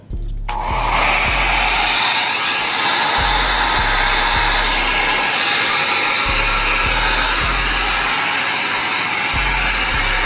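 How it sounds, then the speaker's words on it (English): A mini travel hair dryer blows steadily and loudly at close range, a continuous airy roar with a low motor hum throughout, no voices. "that's how you know if the blow dryer is good"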